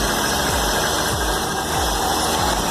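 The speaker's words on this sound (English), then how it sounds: "But hell, look at that, the car's running." A 1956 Chevy engine, just revived after a ballast resistor fault and with the choke fully open, idles steadily with a regular low chugging pulse, loud and close, with no talk.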